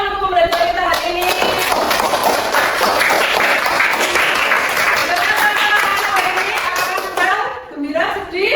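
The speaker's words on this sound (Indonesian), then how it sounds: "Boleh kita berikan tepuk tangan untuk pembelajaran kita hari ini" Sixth-grade primary school class clapping in a classroom, a lively round of hands that fills most of the stretch and then tapers off, with children's voices near the start and end.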